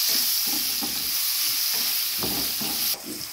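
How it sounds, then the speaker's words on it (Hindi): Chopped tomato and green chili frying in a pan for prawn curry, a continuous hiss with rhythmic spatula stirs and scrapes close by, no talk. "एक कटा हुआ टमाटर और एक ग्रीन चिली डालेंगे, इनको सॉफ्ट होने तक भूनेंगे।"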